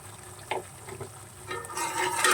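Paneer and vegetable curry with fried cumin powder is mixed in a pan: a few scraping stirring strokes over a low, quiet sizzle, with no speech.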